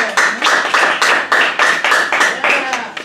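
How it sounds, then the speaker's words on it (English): A group claps in unison, loud and close, about two claps per second in a steady rhythm. "clap, clap, clap, clap."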